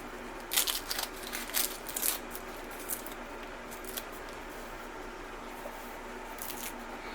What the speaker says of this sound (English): And then we're going to dice it up very, very thin.